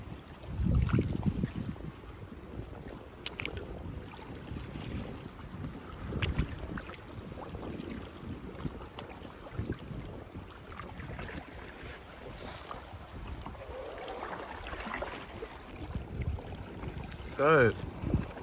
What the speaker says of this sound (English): So, keep on rowing.